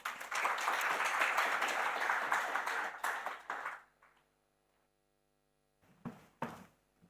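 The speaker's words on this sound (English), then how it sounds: "And please, may we give a round of applause to our panelists." An audience at a mining innovation event applauds panelists, with dense clapping for about four seconds that fades to near silence, followed by a couple of brief isolated sounds.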